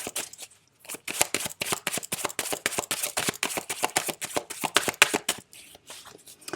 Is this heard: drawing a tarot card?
yes